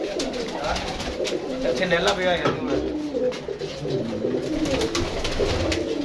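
A pair of golden pigeons coo steadily in a loft, a low, throaty burble that repeats and is heard close. Someone talks over them almost the whole time, and there are scattered faint clicks and shuffling.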